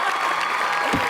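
A studio audience at a comedy show claps and cheers in a dense, loud wash of applause filling the whole short moment.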